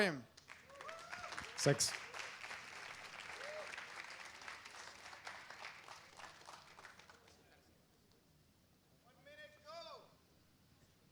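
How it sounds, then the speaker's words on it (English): Audience applause at a tech camp session, fairly dense clapping over the first half that thins out and fades as a presenter begins speaking, with scattered voices nearby. "A big applause for him."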